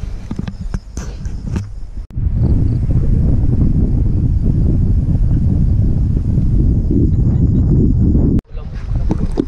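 Strong wind roars and buffets the microphone in a loud, sustained rush, with brief calmer moments at the start and end.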